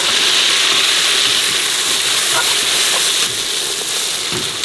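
Onions frying in a pan for mutton gilli biryani: a constant close hiss and sizzle with a few faint scraping clicks of stirring.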